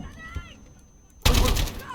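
Explosion in Call of Duty: Modern Warfare 2019, a sudden loud, broad blast that erupts after a quieter stretch and rumbles on with dense noise, with a voice briefly audible before it.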